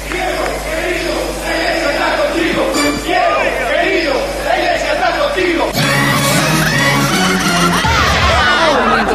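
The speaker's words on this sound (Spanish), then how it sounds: "La gente lo celebra así, con este cántico, con este aplauso." A television studio crowd chanting and applauding for Diego Maradona's 47th birthday, a loud sung chant with shouts and whoops, voices rising together and clapping joining in toward the end.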